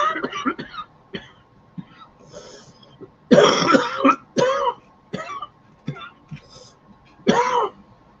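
Repeated harsh coughs and throat clearing come in irregular bursts close to the microphone, with short pauses between fits.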